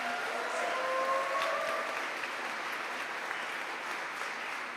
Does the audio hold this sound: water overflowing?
no